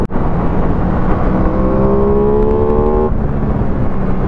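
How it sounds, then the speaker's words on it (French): An Aprilia Tuono 660 motorcycle gives a loud, continuous airbox and engine roar at close range, with the pitch climbing steadily as it accelerates before easing off. "Ce bruit de la boîte à air est tout simplement incroyable sur cette petite Tuno 660"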